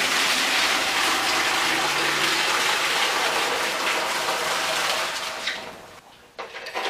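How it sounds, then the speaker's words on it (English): Hot water gushes and splashes steadily inside a 1976 Mazda RX-5 Cosmo fuel tank during rinsing, a loud, close, hissing rush that tapers off and breaks into sloshing near the end. "Just giving it a few good rinsings with hot water to remove all the super clean and other"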